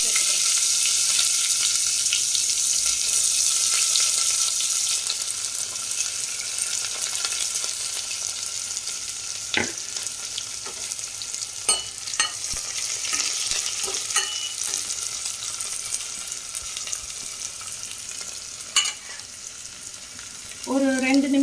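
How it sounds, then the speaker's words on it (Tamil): Onions sauté in hot oil with cumin and cardamom, producing a constant close sizzle with intermittent spatula scrapes and clinks. A voice briefly begins at the very end. "ஒரு 2 நிமிஷம் இந்த வெங்காயம் வந்து வதங்கணும்"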